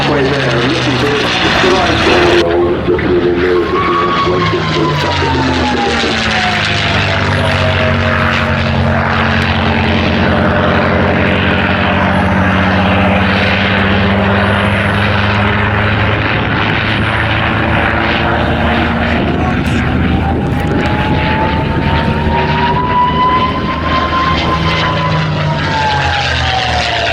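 A Mustang propeller plane roars overhead at an air show, its loud engine drone rising and falling in pitch as it sweeps past across the whole stretch, with crowd and commentary beneath.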